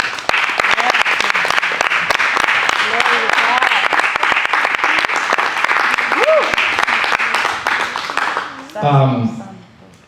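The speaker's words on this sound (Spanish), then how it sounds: "Denle un aplauso al Señor" A church congregation applauds loudly and steadily during a baptism teaching service, a dense wash of clapping that fades near the end as a voice briefly cuts in.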